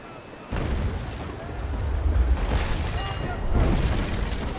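Ship cannons in the Naval Action sailing game fire in a series of heavy booms, with rumbling blasts and crashes layered over one another, loud and close.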